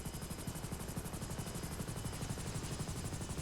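Helicopter engine failing in GTA V, a steady loud rotor thrum with dense rapid chopping pulses and broadband whine throughout, no talk.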